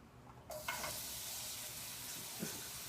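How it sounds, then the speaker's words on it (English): Sausages sizzling in a hot frying pan: after a brief quiet moment a dense, close sizzle bursts in and carries on steadily, with a few small crackles and bumps. "I have the pan sizzling a little bit now."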